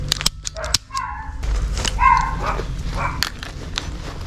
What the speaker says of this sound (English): My neighbor's dogs do not sound like they like each other.